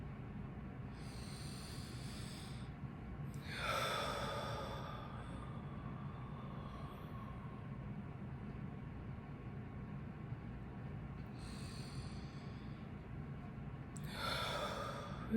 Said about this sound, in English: relaxing and letting myself naturally inhale